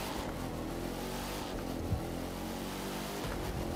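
A drift car's engine in the racing video game The Crew 2 drones steadily and loudly with a constant rumbling roar, swelling slightly as it revs, with no pause.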